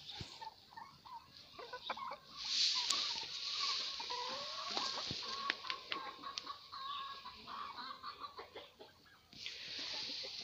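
Backyard hens cluck in short, scattered calls, some near and some farther off, with a few sharper squawks over a steady outdoor hiss on a snowy day.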